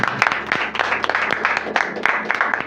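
A church congregation applauds in a dense, steady patter of many hands, loud and close, sustained throughout with no clear pauses.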